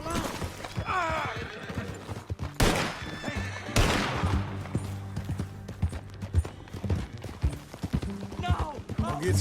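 Horse in Red Dead Redemption 2 whinnying several times alongside clip-clopping hooves, close and loud, with characters talking over it.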